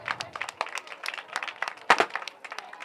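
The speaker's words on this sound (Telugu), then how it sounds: "గట్టిగా చప్పట్లు కొట్టాలి." Applause from an audience at an outdoor Karthika Vana Bhojanalu community lunch held by a business group, a steady patter of many hands clapping close by, with one louder burst near the middle.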